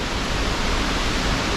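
A loud waterfall in a valley or gully roars continuously, a dense, steady broadband rush of falling water that fills the space, close and powerful with no voices.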